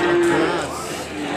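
Cattle lowing at a crowded livestock market in Indonesia, a sustained moo standing out against busy crowd noise and background chatter.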